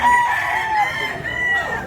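A young rooster, a bullstag, crows loudly in one sustained call close by.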